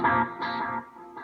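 Electric guitar played through a digital quarter-note delay feeding an analog dotted-eighth delay, a short phrase whose repeats smear and trail off, fairly quiet and heard alone.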